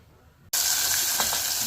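Boiled potato pieces drop into hot ghee, a sudden loud sizzle bursting out of near silence and holding as a steady bright hiss, with a couple of faint stirring scrapes.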